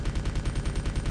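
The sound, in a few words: SMG gunfire in Resident Evil 2 video game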